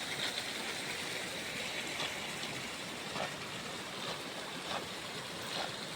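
A mountain spring stream in a Lahaul valley village flows with a steady, soft rushing wash of water, faint and continuous with no voices.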